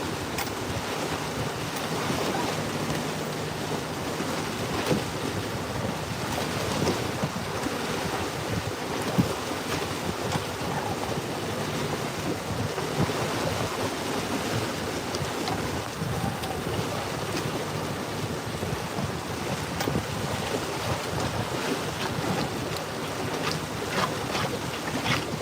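A fishing boat runs over open water, its engine a low continuous drone mixed with the rush of waves and gusts of wind buffeting the microphone, steady and unbroken with no talking.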